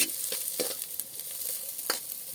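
Garlic and ginger sizzle steadily in a hot pan while being stirred, with a few louder scraping strokes breaking through the continuous frying hiss.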